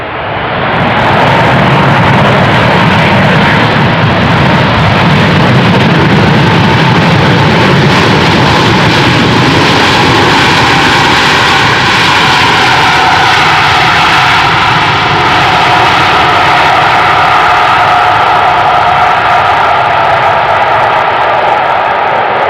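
Airliner landing on runway 18R at Amsterdam Schiphol, a loud, continuous jet engine roar heard up close, with a sustained whine that shifts in pitch as the aircraft passes and rolls out.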